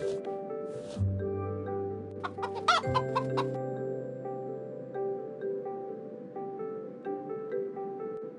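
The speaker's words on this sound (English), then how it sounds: "it's a real chicken yet pink" A chicken clucks in a series of short, close, fairly loud calls with brief pauses, standing alone against a quiet background.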